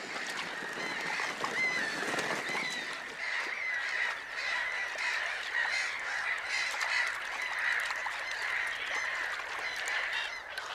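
A dense flock of black-headed gulls calls continuously, a chorus of overlapping harsh cries and squawks, steady and fairly loud with no talking.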